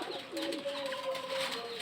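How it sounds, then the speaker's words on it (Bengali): A sick pet pigeon gives a soft, low coo of about a second and a half, close by and quiet over faint room noise. "দেখেন কবুতরটার অবস্থা, অনেক পছন্দের একটা কবুতর আমার"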